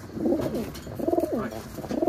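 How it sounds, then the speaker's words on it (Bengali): A Giribaz pigeon of an old Rajshahi breed cooing close by, three short throaty coo phrases in quick succession, clear against quiet background. "আর এটা তো মনে হয় গিরিবাজ কবুতর।"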